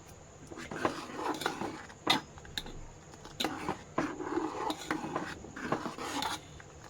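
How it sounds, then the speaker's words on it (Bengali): A spoon scrapes and clinks in a pot as rice flour is stirred into milk for rice firni, making soft irregular taps and scrapes at close range, with quiet voice sounds in the background. "এবার নাড়তে থাকবো, তাই যতক্ষণ না একটু ঘন হয়ে আসছে নাড়তে হবে"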